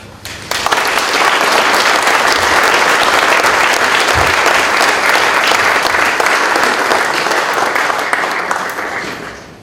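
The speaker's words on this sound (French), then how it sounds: "je crois que on va se devoir de vous applaudir." Loud, sustained applause from a gathered crowd honoring a firefighter at a Sainte Barbe ceremony, dense clapping rising sharply and holding strong for about nine seconds before tapering off.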